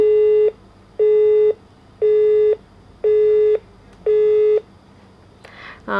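Telephone busy tone after a caller's line disconnected: five evenly spaced beeps of steady pitch, each about half a second, loud and close, followed by a brief rustle with no talk.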